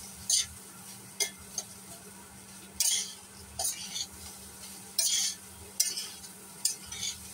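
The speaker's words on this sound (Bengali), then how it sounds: "ভালো করে ভাজছি" Flattened rice (chira) is stirred and fried in a pan, with a soft sizzle underneath and sharp intermittent scrapes and clinks of a spatula against the metal at an uneven rhythm.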